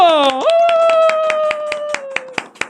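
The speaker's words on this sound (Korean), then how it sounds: "박수!" A small audience at a youth counseling outreach event claps in a sparse, fairly regular series of claps, while a sustained, pitched electronic tone glides and then holds through most of the clip.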